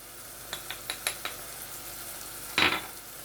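Onions cooking in a pan with a soft background sizzle, a short row of light utensil taps and one louder scrape near the end, close and quiet.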